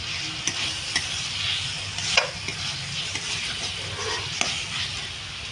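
A whole head of garlic frying in a pan of oil with spices for Bihari chicken, giving a steady low sizzle with faint stirring scrapes and occasional soft clicks, close and continuous.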